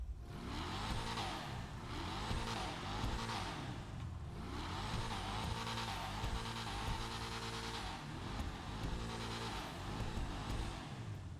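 A Bravado Verlierer sports car in GTA Online revs its engine repeatedly, rising and falling in a steady cycle of roaring pulls over about eleven seconds, loud and close, with no talk.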